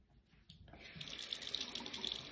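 Cold water runs from a tap, starting after a short quiet moment and then holding as a steady, close hiss of flowing water.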